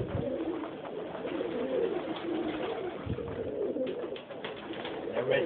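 Pet birds in an aviary, including red and yellow tiger birds, give soft repeated cooing calls close by, layered over a steady murmur of background noise.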